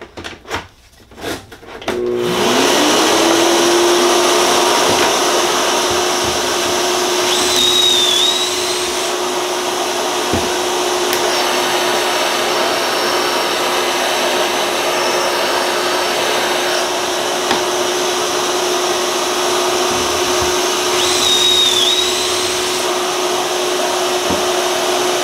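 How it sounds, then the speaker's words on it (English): A shop vacuum starts up after a few handling clunks and runs at a steady, loud whine for dust collection at a Kreg 720 pocket hole jig, with faint knocks and squeaks over the drone. "Let's do the vacuum."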